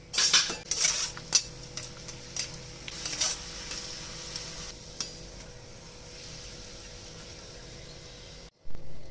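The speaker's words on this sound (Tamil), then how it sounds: "நெக்ஸ்ட்டு திராட்சை ஃப்ரை பண்ணிக்கலாம்" Raisins frying in oil while being stirred in a metal pan for kara boondi, soft sizzling under sharp clinks and scrapes of a ladle, busier at first then quieter, close up with no talking.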